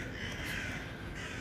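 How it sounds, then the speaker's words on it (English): Crows caw faintly in the distance, a few harsh calls over a low background hum. "There's crows outside."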